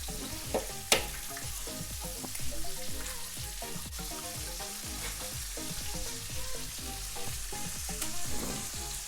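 Food frying steadily in a pan, a dense, continuous sizzle with a few sharper pops and crackles, heard close up with no voices.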